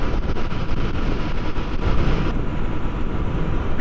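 A Royal Enfield 650 Continental GT motorcycle cruising at motorway speed, a steady broadband roar of wind and engine with no pauses and no talking.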